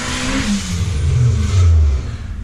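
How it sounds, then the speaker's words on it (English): A turbocharged Honda car revs nearby, its engine note rising and falling through a few loud throttle blips over steady rumble, heard alone without talk. "It's my neighbor in a turbo Honda"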